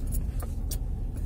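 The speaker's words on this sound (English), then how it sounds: "What I'm going to do now is back the truck into the driveway, into the garage." Truck engine idling and rolling in a driveway while backing into a garage, a steady low rumble with a few brief higher rattles over it.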